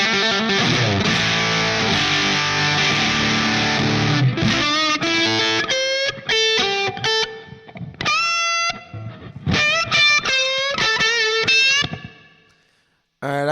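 At full gain, an electric guitar through the Line 6 Pod HD500 Plexi Lead model of a Marshall Super Lead 100 gives heavily saturated sustained chords, then sparse stabbing notes and sliding bends separated by gaps, loud and close.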